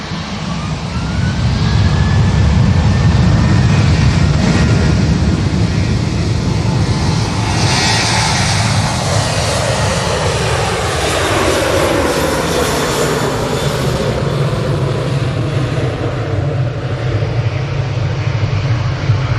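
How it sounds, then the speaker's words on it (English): A Ryanair airliner in from Rome lands at Manchester Airport, its engines a loud, sustained roar close by, the pitch gliding downward as it passes, with no voices over it. "Waiting for that Ryanair to land. Ryanair's in from Rome."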